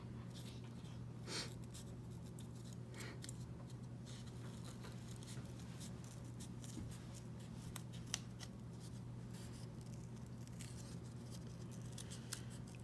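Quiet, close trimming of excess material from the sole of a handmade gnome shoe, with faint scratchy snips and light rustling repeating irregularly over a steady low hum.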